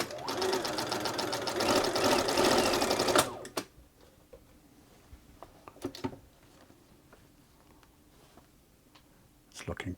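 A Bernina 930 Record electronic sewing machine runs a zigzag stitch for about three seconds, then stops, leaving quiet clicks of fabric handling and a brief restart at the end.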